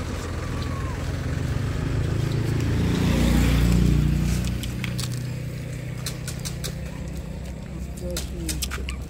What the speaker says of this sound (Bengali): কিরস্কার ইঞ্জিন চলতেছে